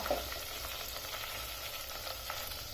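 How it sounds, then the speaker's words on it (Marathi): Sweet corn deep-fries in oil until crisp and golden, making a faint, continuous sizzle with scattered small pops and a brief clink near the start, heard up close and alone. "आता याला क्रिस्पी होईपर्यंत छान गोल्डन ब्राऊन होईपर्यंत तळून घ्यायचं"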